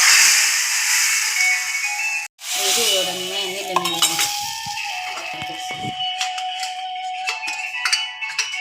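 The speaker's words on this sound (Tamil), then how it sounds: "பட்டை வெத்தல் கருவேப்பிள்ளை சின்ன வெங்காயம் கொஞ்சம் பெருங்காயம் ஆட் பண்ணுறேன் வதங்கிருச்சு சாம்பாரில் ஆட் பண்ணுறேன்" Sauteed shallots, curry leaves, cinnamon, bay leaf and asafoetida are tipped into beetroot sambar. A bright, steady sizzle starts, breaks off briefly, then gives way to softer bubbling with scattered clinks and stirring noises.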